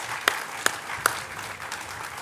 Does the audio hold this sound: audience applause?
yes